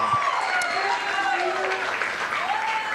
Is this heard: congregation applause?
yes